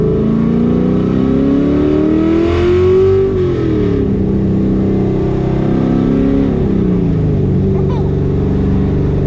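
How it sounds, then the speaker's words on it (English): A 1969 Camaro with a cammed LS engine swap revs through its exhaust at about a third throttle, a deep throaty roar rising in pitch, easing off, then climbing again in a second shorter rev, loud and close. "Give you a little idea what the exhaust sounds like."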